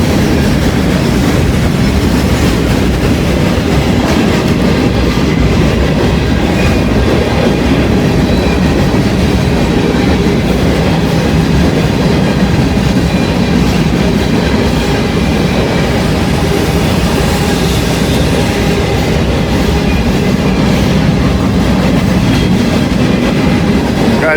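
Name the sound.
empty grain train passing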